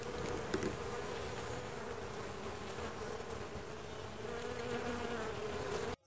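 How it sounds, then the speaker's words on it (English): Swarm of bees buzzing inside a flowering bush, a steady dense hum with other small insects mixed in, close and continuous for about six seconds before cutting off. "Look at all these bees."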